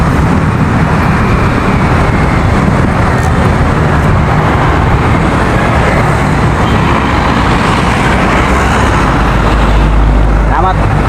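Dense road traffic rumbles steadily at a U-turn point, a continuous close wash of car, bus and truck engines with no pauses, loud throughout and covering any voices.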